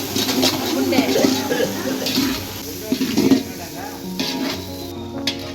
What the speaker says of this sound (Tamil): இஞ்சி பூண்டு பேஸ்ட்டு சேர்த்து அதுவும் நல்லா பச்சை வாசனை போடுற அளவுக்கு நல்லா வதக்கிக்கணும்